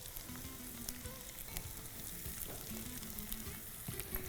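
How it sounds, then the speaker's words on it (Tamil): Potato, peas, beans and carrot sauté in a hot pan with salt, giving a steady soft sizzle and crackle with occasional stirring clatter, close up and without talk. "அப்படியே வெறும் காய்கறியிலேயே கொஞ்சம் வதக்கிட்டு வந்துடணும்"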